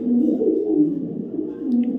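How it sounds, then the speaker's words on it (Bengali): A male Maxi racer pigeon coos in a low, continuous throaty rumble, close and steady with soft rising swells, heard alone without talk. "একটা মাক্সি রেসার একটা নর কবুতর"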